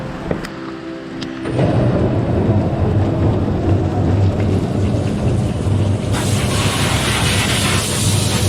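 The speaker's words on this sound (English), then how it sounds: "It's raining again, shoot." Rain pours down at a winery while thunder rumbles low and long; the downpour surges in abruptly, turns to a heavier hiss of rainfall later on, and carries on steady and loud with no voices.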